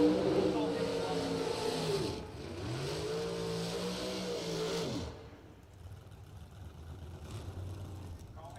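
Bracket drag race cars roaring down the strip in a double breakout race, a loud sustained engine howl with rising and falling tones, then the roar drops off to a quieter rumble, with announcer talk over it.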